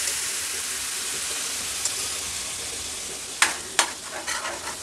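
Masala chaap being bhuna on a hot tawa over a high flame, with leftover broth added: a loud, steady, close sizzle throughout, with a few sharp scraping stirs near the end and no talking.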